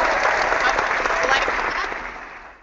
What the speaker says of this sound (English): It was supposed to be applause.